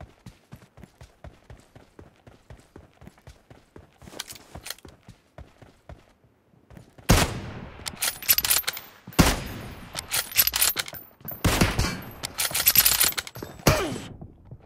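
Gunfire in the mobile battle game PUBG Mobile starts as quiet, rapid ticking shots, then loud bursts of automatic fire crack out in several close, heavy volleys with short pauses between them.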